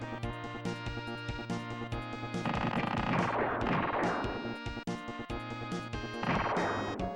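A weapon in the video game Super E.D.F. fires rapidly in a steady stream of loud, sharp shots, with blasts and crashes over game music.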